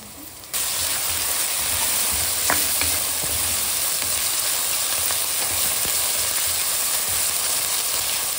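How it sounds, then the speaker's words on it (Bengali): Ginger paste and light golden-browned onions frying in a pan while being stirred, a loud continuous sizzle that starts abruptly and carries on steadily with occasional scraping clicks of the spoon. "ভালো করে কষিয়ে নিচ্ছে আদাগুলো।"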